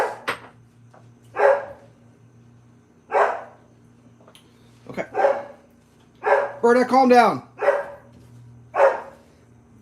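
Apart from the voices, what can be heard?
dog barking at an animal, probably a deer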